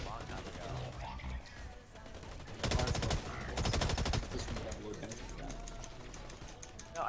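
Rapid automatic gunfire rattles in a video game, dense bursts of fast repeated shots rising to a loud sustained stream in the middle, with other game effects and a player talking throughout.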